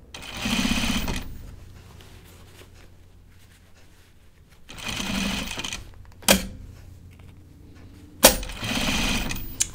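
Sewing machine stitching jeans in short bursts, a loud rapid mechanical whirring that starts and stops three times with quiet pauses and sharp clicks in between.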